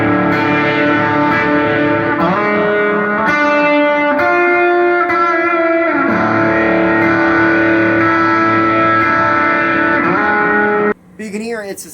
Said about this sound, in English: the last sound that I have brings back in the phaser, but it's all 3 overdrives on, plus the saturated delay.